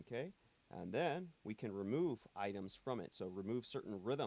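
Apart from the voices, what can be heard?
No distinct noise like a dog, phone or traffic.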